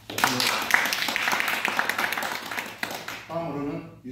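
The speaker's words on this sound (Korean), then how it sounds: "박수" Applause from attendees at the founding board meeting of a Korean memorial society, a dense patter of many hands clapping for about three seconds before it gives way to a speaking voice.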